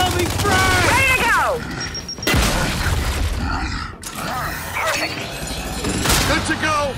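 A frag grenade blast in the Gears 5 video game, a loud booming burst amid chaotic combat noise, gunfire and shouting voices.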